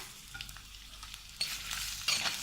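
Ginger, garlic and chopped onion sautéing in a pan for fish curry, a soft sizzle with light stirring scrapes that jumps louder twice as more onion hits the hot oil.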